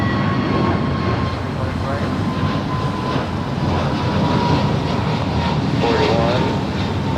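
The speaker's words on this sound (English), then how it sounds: "That is American Airlines 481 to Philadelphia. It is a 2-year-old A321neo." At Los Angeles International Airport, an American Airlines Airbus A321neo jet gives off a loud, steady roar that fills the whole stretch, with a person talking over it.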